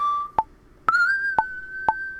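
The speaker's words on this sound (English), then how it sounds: "So there's the whistles." A whistle part in a BandLab song plays as a sustained, bright tone that slides upward and holds. Four sharp percussive clicks fall about half a second apart.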